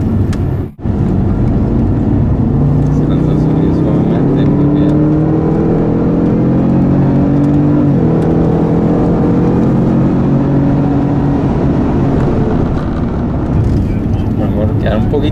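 A Jaguar engine on a driving track climbs steadily in pitch as it accelerates, loud and close from the cabin, with one brief dip near the start and a continuous drone throughout.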